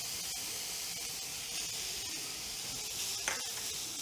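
Finely chopped ginger and green chillies sauté in a pan with a continuous steady hiss of frying, close and fairly even, with one brief scraping stir near the end.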